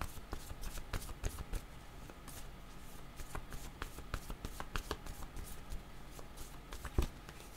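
Playing cards are shuffled in quick, soft riffling bursts at close range, with light handling taps between them and no voices.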